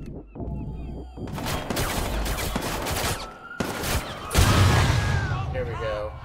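Gunfire in the video game Watch Dogs 2: rapid bursts of shots crackle under loud in-game voices and action, with a heavier booming stretch near the end.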